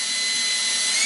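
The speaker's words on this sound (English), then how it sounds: "So we're going to drill all the way to the" A high-pitched, steady whine of a small power drill with a small bit running continuously at close range through a drawer front template, with no pauses or voices.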